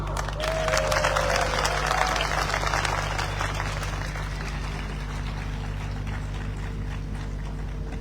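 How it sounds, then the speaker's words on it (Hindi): A seminar crowd applauds at a network-marketing event, producing a sustained, dense patter of clapping over a steady electrical hum, with no speech on top. "ताली बजाओ।"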